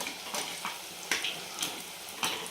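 Fenugreek, spinach and potato pakoras deep frying in hot oil, a steady soft crackling sizzle with periodic brighter bursts of bubbling every second or so, close by with no voices.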